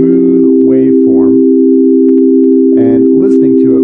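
Synthesized pure just-intonation triad of steady sine tones, a smooth, blended sustained chord held throughout while someone talks over it.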